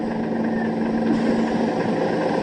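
A minibus engine runs with a steady, continuous mid-pitched hum and low rumble, with no voices over it.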